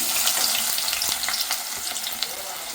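Two medium onions frying in hot oil, a dense, continuous close sizzle and crackle with faint stirring ticks throughout, no speech.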